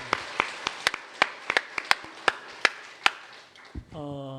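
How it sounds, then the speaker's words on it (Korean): A Sunday church service congregation clapping to give glory to God, sharp distinct claps at an irregular, slowing pace, then a voice begins speaking near the end. "하나님께 영광의 박수 드립니다"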